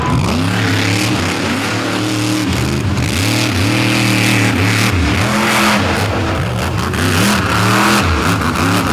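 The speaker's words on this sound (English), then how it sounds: "Darren Basil out of Conroe, Texas, driving the wild-looking machine out of Lafayette, Indiana." Loud engine of a freestyle monster-truck-style racing machine revving hard on a track at a Throwdown on the U.P. event, with the pitch rising and falling repeatedly as the throttle is worked, close and continuous.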